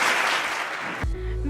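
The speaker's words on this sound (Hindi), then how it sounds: "भरपूर तालियों से इस्तकबाल कीजिएगा मिस एमन इस्माइल" Audience applause welcoming Miss Aiman Ismail to the stage at an e-commerce talk, a dense wash of clapping for about a second before it cuts off abruptly and a sustained low tone takes over.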